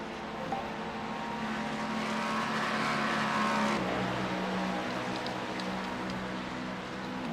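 Racing-game engine of a Ferrari 296 GT3 at the Nürburgring 24, a continuous high, harmonically rich drone that climbs in pitch, then drops at a gear change and settles, with faint tire noise and no talk.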